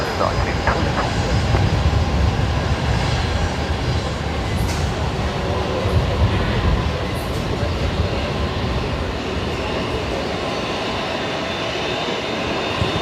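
A Boeing 787 arrives at Brisbane Airport with a loud, steady, broadband jet roar and deep low rumble that persists throughout, while voices talk over it.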